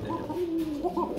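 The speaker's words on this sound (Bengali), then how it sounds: "7 ফেদার বয়স নরের ডাকটা দেখতে পাচ্ছেন আপনারা" A young male pigeon, about seven feathers old, gives a low throaty coo, a short rolling phrase that is near and clear over faint background noise.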